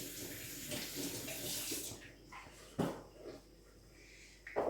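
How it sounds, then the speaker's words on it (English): Celery is rinsed under a running kitchen tap, a steady hiss of water that gives way midway to splashes and scattered clatters as the stalks are handled, fairly quiet overall. "I'm going to go and give them a little bit of a wash,"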